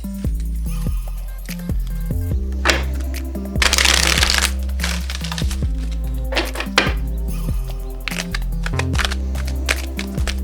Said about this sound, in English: let me do a traditional shuffle with these first